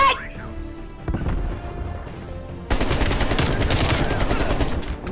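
Dense, rapid gunfire in a Call of Duty match, a short burst early and then a loud sustained barrage of overlapping shots filling the second half, with game noise throughout.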